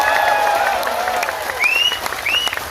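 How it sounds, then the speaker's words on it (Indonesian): Applause from an audience at an Indonesian religious sermon gathering in Taichung, a steady wash of clapping with crowd noise and a couple of rising whistle-like tones over it. "tepuk tangan."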